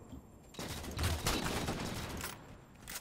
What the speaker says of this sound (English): One shot, red sniper.